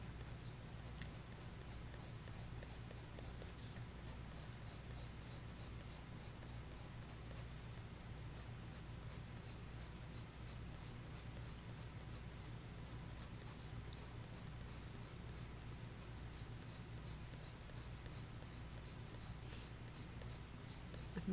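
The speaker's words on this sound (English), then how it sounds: "Is my pencil driving y'all crazy yet?" Pastel pencil scratching steadily across paper in rapid, rhythmic strokes, close and continuous with a low background hum throughout.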